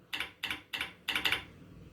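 Several quick keystrokes tap on a computer keyboard at a command prompt, soft close clicks in uneven bursts ending with a double press, quiet and alone.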